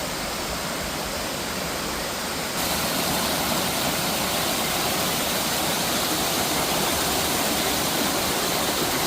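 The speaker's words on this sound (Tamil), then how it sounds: "இதான் செம்பன் அருவி." Chempanaruvi waterfall in Kerala roars as a steady, loud, dense rush of falling water, unbroken throughout with no voices.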